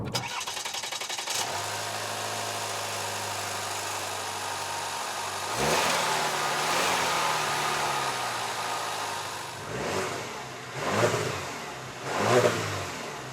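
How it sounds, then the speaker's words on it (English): A used Cadillac XT4 starts up close by and settles into a steady, gravelly idle. A deeper surge follows, then three short revs swell and fade near the end. "The engine, although it sounds like a cement mixer at idle, runs smooth as silk."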